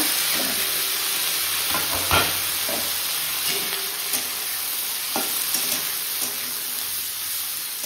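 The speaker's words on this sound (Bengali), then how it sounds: "এবার সবজিগুলোকে ভেজে নেব।" Vegetables frying in hot oil in a home kitchen, a steady close sizzle with occasional stirring scrapes and clinks of a utensil against the pan, no talk.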